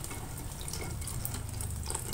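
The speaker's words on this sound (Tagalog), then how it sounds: "pag nilagay ko po yung evaporated milk, tapos nakita kong medyo kulang pa sa liquid, dinadagdagan ko pa po ng tubig." Tap water pours steadily into an evaporated milk mixture for a homemade sweet being made to order, a continuous close splashing stream with no talk.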